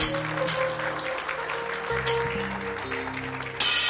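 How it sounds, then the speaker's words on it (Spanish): Church congregation claps loudly, with sustained tones of keyboard music running beneath the steady applause. "Denle un fuerte aplauso a Jesús."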